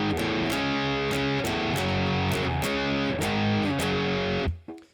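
The intro riff of a song on a distorted electric guitar: steady, loud power-chord strums in a driving rhythm that stop abruptly near the end.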